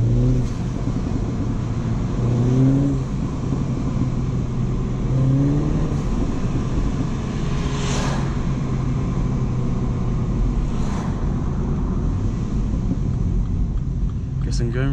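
A 2018 MINI Cooper S engine revs in steady rising and falling sweeps, with a few sharp exhaust pops cracking out over the continuous rumble as the car drives along.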